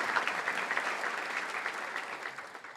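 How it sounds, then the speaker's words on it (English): A live audience claps steadily in a celebration hall, a dense, even wash of applause at moderate loudness that tapers slightly toward the end, with no talk over it. "you can give me a round of applause."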